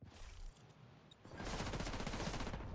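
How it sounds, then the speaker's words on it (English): Rapid gunfire from another player in The Division 2, a sustained automatic burst that swells loud and dense after a quieter opening, with no talking. "he's shooting at me"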